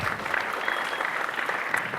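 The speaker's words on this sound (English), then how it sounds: "I would settle for 1 single applause." An audience claps after a hat juggling trick at a 2002 IJA event, a steady close patter of many hands sustained throughout, with no talk over it.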